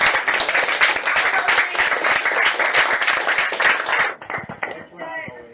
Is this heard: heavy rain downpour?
no